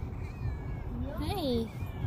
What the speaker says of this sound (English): It's our neighbor Lanny, black cat.